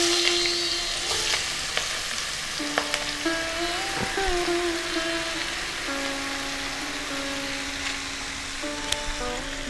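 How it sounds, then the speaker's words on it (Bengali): Bottle gourd pieces frying in a pan with asafoetida and green chilli, giving a soft, steady sizzle with scattered stirring taps, while a faint tonal hum runs underneath. "এখন আমি কেটে রাখা লাউয়ের টুকরোগুলো দিয়ে দিচ্ছি।"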